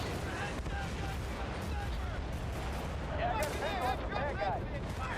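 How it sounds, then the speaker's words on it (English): Mortar and tank fire rumble through a video game battlefield as a steady barrage of distant booms and gunfire, with whooshing, whistling effects building toward the end. "You can see they've got mortar fire, tank fire."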